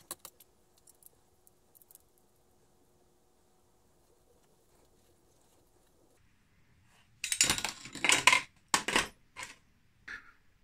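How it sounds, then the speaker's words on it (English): A pipe cutter slicing through a pipe for a 3D-printed RC Volvo EC550EL excavator model: after near silence, several short, sharp metallic bursts crackle up close in quick succession. "Now, this is a pipe cutter."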